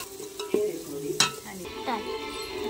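Masala and chilli frying for mutton rassa over a chulha, a steady close sizzle with scraping stirs and a couple of sharp clinks.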